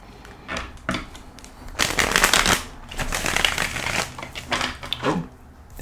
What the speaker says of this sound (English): All right, one more shuffle for you